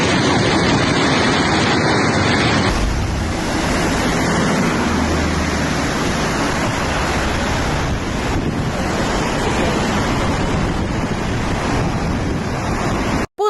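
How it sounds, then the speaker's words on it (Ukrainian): A loud, unbroken roar of rushing floodwater pours like a waterfall, heavy and close, with wind buffeting the microphone. "Вот такой водопад."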